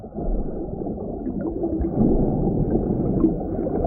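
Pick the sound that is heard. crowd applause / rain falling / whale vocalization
whale vocalization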